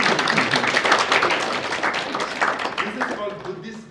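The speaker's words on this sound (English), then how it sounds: "You can clap." Audience in a university lecture hall clapping for about four seconds, a dense patter of many hands that slowly thins out toward the end.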